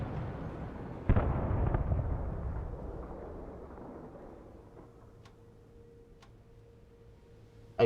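A helicopter crashes in the video game Alan Wake Remastered: a sudden loud impact burst, then a long rumbling, crackling roar that slowly fades, with a sharp hit right at the end.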